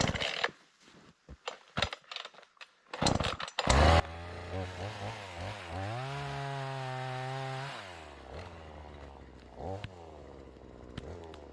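Sputtering mechanical bursts at first, then an old, failing chainsaw engine revs up and runs steadily in a forest, its pitch rising and falling, fairly faint overall.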